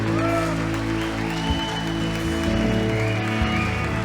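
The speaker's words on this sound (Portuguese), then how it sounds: "Você pode aplaudir bem forte a Jesus" A church congregation claps loudly for Jesus during a worship service, the applause running under sustained organ or keyboard chords and a lingering sung tone.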